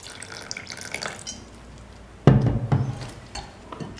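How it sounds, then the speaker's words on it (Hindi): Water is poured into a bowl of bread pakora batter, a soft trickle followed by a sudden splashing gush that bubbles and settles, close by with no talking. "अब हम इसमें पानी डालेंगे।"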